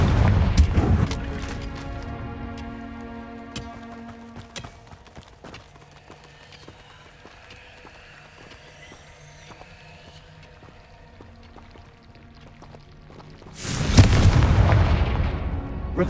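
Confringo fire spell blasts in Hogwarts Legacy, with sharp explosive booms at the start and again near the end, separated by quieter game ambience and repeated clicking footsteps.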